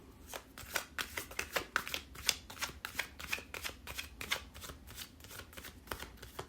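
Tarot cards are shuffled up close in a quick, steady run of soft riffling flutters, repeating for several seconds with no voices.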